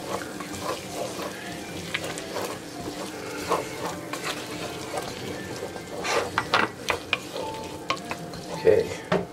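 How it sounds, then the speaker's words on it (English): Minced garlic stirred into celery and onion sautéing in a pot for shrimp chowder, with a soft sizzle under intermittent scraping stirs and clinks that grow louder toward the end. "we're going to stir that in a little bit"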